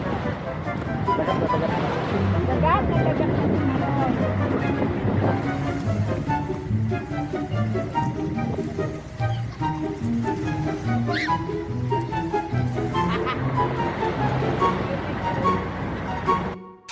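Steady rush of sea waves and wind over a boat's drone, continuous and fairly loud, with faint scattered tones mixed in.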